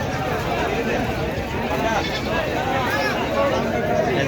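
A male goat at a busy goat market in Baneshwar, bleating amid the dense babble of a crowd, with people talking close by throughout.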